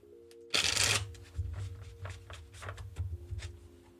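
Tarot cards are riffled in one loud, close burst, then handled and shuffled in a run of softer rhythmic slaps and flicks.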